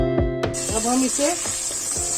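Masala-coated pomfret fish frying in a pan, a steady bright sizzle running throughout with a few low clanks and tonal scraping sounds of a utensil moving the fish.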